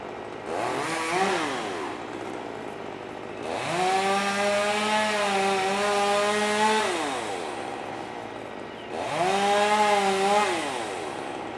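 A chainsaw runs outdoors on a grassy field, revving in three loud bursts with rising and falling engine pitch and dropping back to a quieter idle in between.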